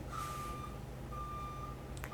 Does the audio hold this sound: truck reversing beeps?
yes